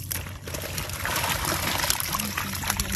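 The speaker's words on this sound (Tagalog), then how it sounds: "Ilalagyan ko na nga rin ng tubig itong aming bangka para hindi nga magkamatay ang mga similya" Water pours steadily into a wooden fishing boat on open water, a continuous trickling and splashing stream with no talk over it.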